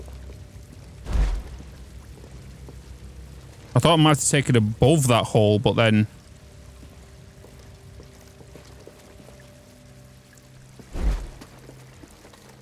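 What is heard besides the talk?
water pouring in Star Wars Jedi: Fallen Order video game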